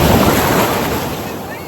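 Loud, steady roar of Black Sea surf washing onto a beach at Chornomorsk, a dense wash of noise with wind buffeting the microphone.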